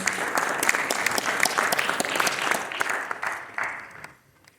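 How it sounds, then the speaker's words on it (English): Warm audience applause at a Diwali celebration hosted by the Queens Borough President rolls on steadily, then tapers off and fades out near the end. "Let's give them another round of applause."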